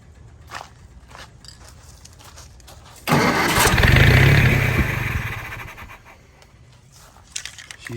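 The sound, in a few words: army generator engine trying to start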